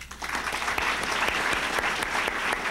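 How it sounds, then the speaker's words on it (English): Audience applause at the close of a 1st District congressional race debate, a steady dense wash of many hands clapping that carries on evenly throughout, with no voices over it. "Please join me in a final round of applause."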